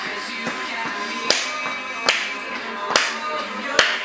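Sharp hand claps during a dance routine, about six evenly spaced claps over steady background sound, fairly loud and close.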